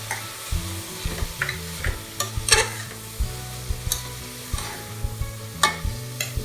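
Masala spices stirred and sizzling in hot oil for Tamil-style mutton chops, a steady crackling fry with repeated scraping stirs, close and moderately loud, no talk.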